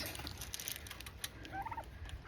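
Farmyard fowl heard faintly during chores, a few short gobbling, clucking calls under low background noise with some handling rustle.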